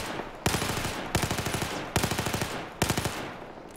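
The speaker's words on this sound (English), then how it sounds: "But let's look at some burst fire." Four short bursts of automatic fire from a PDW in Battlefield 4, each a rapid run of sharp, evenly spaced shots separated by brief pauses, loud and close with no talk.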